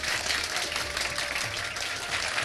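Studio audience applause on a live Ramadan iftar quiz show, dense and even clapping from a crowd sustained throughout, fairly loud and uninterrupted.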